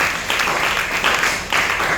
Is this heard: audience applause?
yes